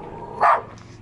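A single short bark from a dog in a street neighbourhood of Belize City, close and fairly loud above a steady outdoor background.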